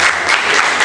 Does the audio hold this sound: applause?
yes